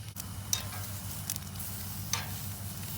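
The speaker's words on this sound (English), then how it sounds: "we're gonna be putting the steaks on now" Steaks sizzle on a campsite cookstove while tent camping at Louisville State Recreation Area, Nebraska: a continuous close frying hiss with a few brief louder crackles and scrapes, and no voices.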